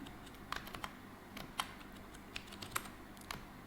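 Light, steady tapping on a computer keyboard while text is entered into an Excel cell, scattered soft clicks close by over a faint background hum, without speech.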